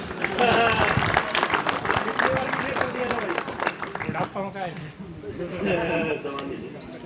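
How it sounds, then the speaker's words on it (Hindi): Loud applause from an audience at a test coverage event in India, dense clapping with cheering that runs for several seconds, a voice speaking over it near the end. "एक बार जोरदार तालियां।"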